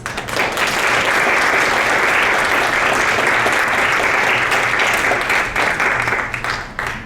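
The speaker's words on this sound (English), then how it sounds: "A round of applause." Full audience applause at a university roundtable on immigration, a loud continuous wash of many hands clapping that holds steady for several seconds before tapering off.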